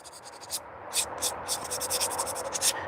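Sandpaper rasps in short, repeated scratchy strokes, close and fairly quiet, with a faint steady hiss beneath.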